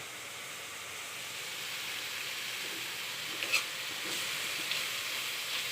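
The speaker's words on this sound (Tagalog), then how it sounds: "Luto tayo ng itlog na maraming kamatis." Eggs with plenty of tomatoes frying in margarine for a breakfast scramble, a steady close sizzle and hiss with a few small pops and stirring clicks partway through.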